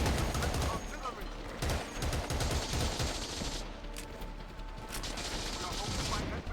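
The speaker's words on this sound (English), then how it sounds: "Incoming fire and artillery." Battlefield 2: Modern Combat battle scene with dense, continuous gunfire and artillery, loud rattling bursts and booms filling the whole stretch without pause.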